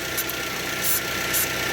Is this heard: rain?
no